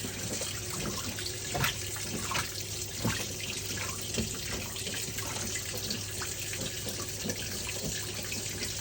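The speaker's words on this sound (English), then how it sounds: "Now we're filling with cold water again." A Whirlpool Ultimate Care II 3RLSQ8000JQ3 washing machine on a heavy cycle fills with cold water, giving a steady, moderately quiet hiss and splash of water pouring in, with a few faint clicks and no voices.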